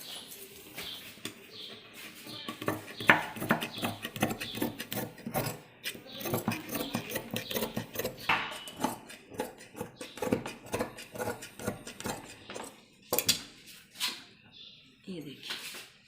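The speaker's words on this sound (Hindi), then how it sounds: "अब हम इसकी कटिंग करते हैं" Scissors cut through suit fabric in a long run of close, rasping snips and dragging strokes with brief pauses between.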